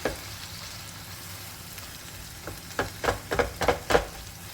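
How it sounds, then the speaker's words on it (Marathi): Brinjal bharit sautéing in a pan over medium gas: a quiet low sizzle, then a quick run of about six spatula scrapes and taps in the last two seconds, close with no talk. "मीडियम गॅसवर त्याला छान परतत राहायचं त्याची भुनी भुनी टेस्ट येते"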